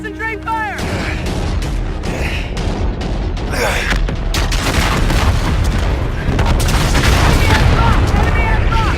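Ship-mounted guns fire in a battle in the video game Call of Duty: Infinite Warfare, loud booms and blasts in a dense, continuous barrage, with shouted commands and combat chatter over the din.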